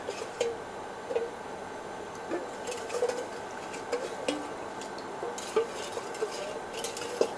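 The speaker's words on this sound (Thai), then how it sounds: "ใช้ไฟอ่อนจนกว่าเราจะคนให้เขาข้นแล้วก็เหนียวนะคะ" A utensil scrapes and taps steadily against a pan while stirring a thickening sugar sauce over low heat, with small irregular clinks repeating throughout; no voices.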